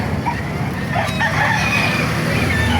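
Gamecocks crow amid the constant hubbub of a busy chicken market in Baliuag, with a crow rising above dense background noise and clucking nearby, loud and close, with no clear speech.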